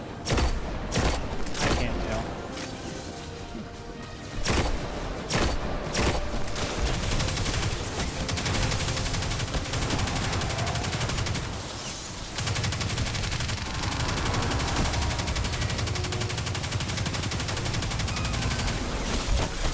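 A Destiny Nightfall boss fight roars with constant rapid gunfire and heavy impacts, dense overlapping shots with brief lulls between volleys throughout, no voice on top.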